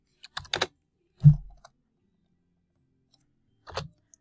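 A few sparse keystrokes on a computer keyboard, in short quiet clusters separated by silence, close up and with no talking.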